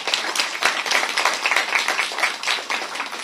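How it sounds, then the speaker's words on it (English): A crowd at a Brooklyn Community Board 10 meeting applauds with a dense patter of many hands clapping, steady and moderately close, rising and falling slightly over a few seconds with no talking. "Please give her a round of applause."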